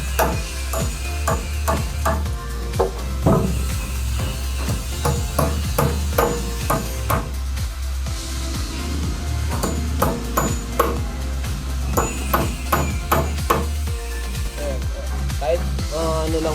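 Umbrella nails hammered into a wooden door jamb, with repeated sharp metallic strikes in irregular bursts throughout, fairly close, under a steady low hum and occasional talk.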